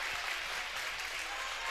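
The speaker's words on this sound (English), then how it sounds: "nice round of applause from both sides of the stands" Spectators in the stands at a high school basketball game clap in a dense, even wash of applause, steady and fairly distant, filling the whole short stretch.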